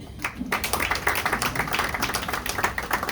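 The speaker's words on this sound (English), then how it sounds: "I think he needs a hand clap there." Audience hand clapping at a Ugandan political gathering, a dense patter of many hands starting after a brief pause and holding steady, fairly close, with faint voices mixed in.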